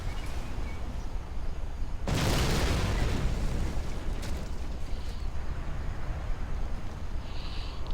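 Boris airstrike explosions in the real-time strategy game Rise of the Reds: a sudden loud broadband blast at about two seconds, followed by a rumbling, crackling tail over a steady noisy battle background.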